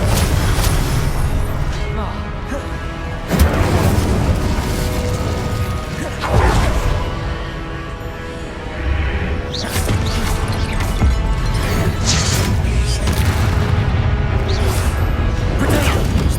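Confringo spell blasts in Hogwarts Legacy, several booming explosive hits scattered through a dense, loud stretch of combat noise and spellcasting.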